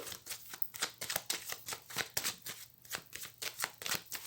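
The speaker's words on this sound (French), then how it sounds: "je vais faire une coupe avec le tarot que j'utilise pour les consultations" Tarot deck being shuffled and cut by hand, a rapid run of crisp riffling card flutters in close, steady bursts with no talking.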